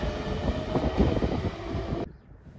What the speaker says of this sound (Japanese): なんだこの保線区車両。